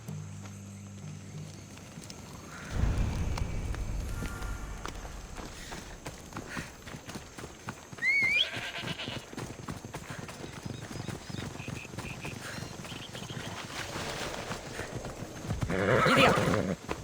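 A horse in the video game Assassin's Creed Odyssey breaks into clip-clopping hooves after a loud start, with a shrill neigh partway through and a second surge of galloping near the end over steady background ambience.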